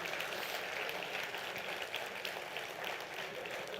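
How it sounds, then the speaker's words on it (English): An audience at a quiz event applauds, producing a steady, dense wash of clapping that holds evenly throughout, fairly soft and distant. "Round of applause for them."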